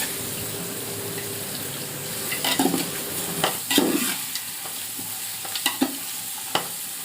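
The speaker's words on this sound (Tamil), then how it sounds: "வெங்காயத்தை சேர்த்து நல்லா வதங்கணும். நல்லா கோல்டன் ப்ரௌன் ஆற வரைக்கும் நல்லா வதக்குங்க." Onions frying in a pan for chicken biryani, stirred until golden brown: a steady sizzle runs underneath, with scraping stirs and clinks of the spatula through the second half.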